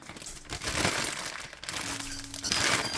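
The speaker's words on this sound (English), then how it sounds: "let me go ahead and zip this up" A zip-top plastic bag holding raw chicken wings with orange seasoning and adobo crinkles and crunches as it is sealed and handled, with close, uneven rustling bursts and no talk.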